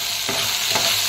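Okra (bhindi) cooking in a pan over a low gas flame, a continuous close sizzle and fry with a couple of soft stirring scrapes, loud and steady with no talking.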